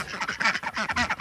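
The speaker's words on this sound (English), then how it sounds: "Here you go, ducks." Ducks quack in a busy, rapid string of nasal calls while being fed, several birds close by chattering over one another at a steady pace.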